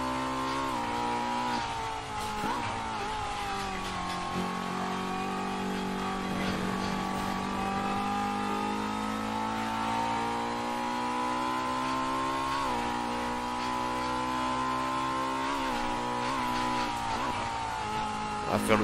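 Engine of a Honda Accord MK5 touring car in the racing game Assetto Corsa, a steady, slightly electronic-sounding drone with rising and falling pitch as the car revs, loud and continuous throughout.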